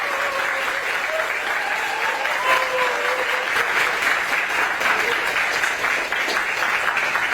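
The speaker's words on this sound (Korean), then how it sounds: "수강생 여러분들 힘찬 박수로 김윤석 강사님을 강가로 모셨습니다" An audience of course attendees gives a lecturer a sustained round of dense, even applause, loud and close, with faint voices underneath throughout.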